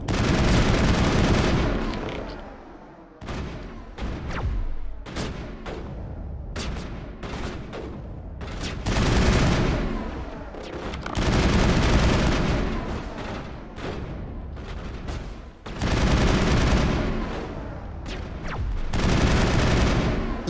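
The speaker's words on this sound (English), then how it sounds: "Shooting the walls." Sustained gunfire in the sci-fi shooter Mass Effect, with rapid bursts of shots hammering walls, loud and dense with brief pauses between volleys and no talk.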